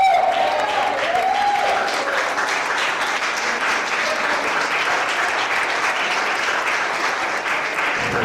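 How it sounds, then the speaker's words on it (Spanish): A church congregation applauds loudly and steadily for the full stretch, a dense, sustained wash of many hands clapping without pause. "Fuertes aplausos para Cristo"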